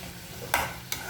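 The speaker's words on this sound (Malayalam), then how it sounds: "ഇത് നമ്മുടെ തക്കാളിയും ഉള്ളിയും എല്ലാം കൂടി നന്നായിട്ടൊന്ന് വഴന്ന് വരണം" Tomatoes and onions sautéing in a pan for a Kerala tomato curry, a soft continuous sizzle with two brief stirring scrapes, close by and without speech.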